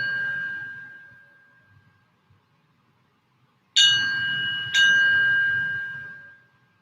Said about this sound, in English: I'm going to ring the bell to draw us in